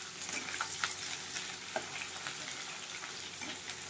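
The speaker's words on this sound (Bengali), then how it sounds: "এই দিয়ে দিলাম পেঁয়াজ কুচি।" Chopped onion frying in a pan for a chicken dish, with a steady broad sizzle and a few soft clinks and scrapes of stirring throughout, no voices.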